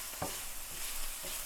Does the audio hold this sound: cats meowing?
no